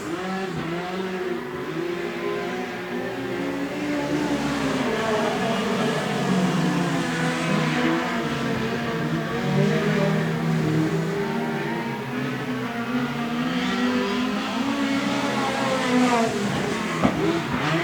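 Speedcars racing around an oval track, with a steady, loud drone of multiple high-revving engines whose pitch rises and falls continuously as the cars lap together.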